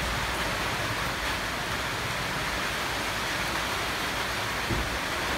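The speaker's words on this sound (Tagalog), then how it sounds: "Buti mahina ang ulan." Steady light rain falling during a typhoon, a dense even hiss of drops that runs unbroken and alone, with no voices.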